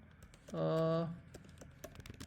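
Code is typed on a computer keyboard as a scattered run of close, quiet key clicks. Near the start a short voiced sound briefly rises over the clicks.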